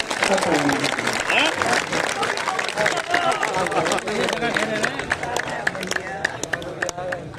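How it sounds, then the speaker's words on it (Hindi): A crowd at a Hindi poetry gathering claps steadily and enthusiastically, dense applause filling the space with some voices mixed in, gradually thinning slightly toward the end. "दोनों हाथ उठा करके तालियां बजाएं।"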